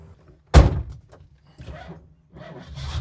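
A single solid thunk of a 1969 Camaro Z28's door shutting close by, followed by faint shuffling and rustling.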